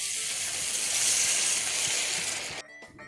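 Liquid pours slowly into a hot pan of beef teres major and garlic cloves, setting off a loud steady sizzle that cuts off abruptly near the end.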